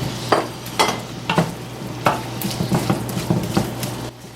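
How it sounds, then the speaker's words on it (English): Onions sizzle in hot oil in a pan, a steady close frying hiss punctuated by several sharp scraping stirs. "I'm going to go ahead and put my onions into my pan here. Got a nice little sizzle."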